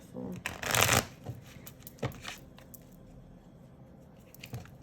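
A deck of cards is riffled and shuffled close by, a crisp fluttering burst followed by a few softer taps and shuffles.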